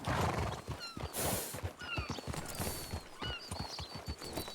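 A horse in the video game Red Dead Redemption 2 whinnies and snorts over steady clip-clop hooves, the neighs rising and falling several times at moderate loudness.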